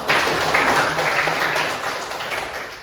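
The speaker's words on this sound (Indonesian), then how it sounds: "Oke, tepuk tangan dulu" A classroom group claps together after a student presentation, a steady patter of many hands lasting a few seconds at moderate loudness before tapering slightly.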